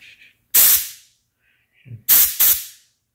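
Short bursts of hissing air from an air conditioner's expansion valve, loud and close, one burst followed by a pair of quick bursts after a pause, with faint low rumbling between them.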